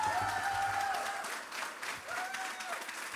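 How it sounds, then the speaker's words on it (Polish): Audience applause for the host of a Valentine's Day concert evening, a steady broadband clatter of many hands that holds for the whole stretch with a slight dip midway, loud and unbroken. "poprosić o ogromne oklaski dla prowadzącego dzisiejszą imprezę"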